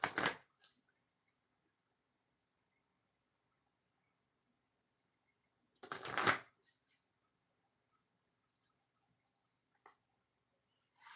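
Two quick riffle shuffles of a deck of cards, each a short crisp flutter, separated by quiet with faint handling noises.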